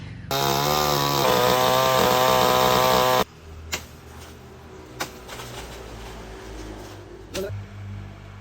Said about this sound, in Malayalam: ഇന്നത്തെ വീഡിയോയിൽ നമ്മൾ ഇതിൻ്റെ മരം വെട്ടുന്നതിൻ്റെ വീഡിയോ ആണ് നമ്മൾ നോക്കാം